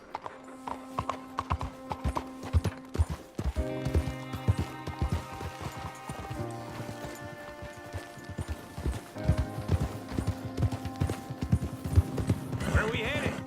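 A horse is ridden in the Red Dead Redemption 2 game, its hooves beating a quick, continuous trotting rhythm close by, with a whinny and sustained background music underneath.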